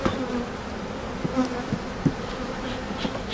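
Dense, continuous buzzing of honeybees from an opened hive, close and steady, with brief louder passes of individual bees and no voices.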